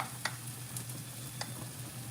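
Cornbread fries in a pan, a quiet steady sizzle with a low hum beneath and a few sharp crackles and pops scattered through.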